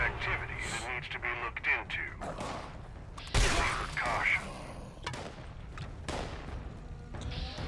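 Gunfire with ricocheting bullets bouncing back at enemies in Fallout 76's Burning Mine daily op, scattered shots and clanking impacts under steady talk, with one louder burst in the middle.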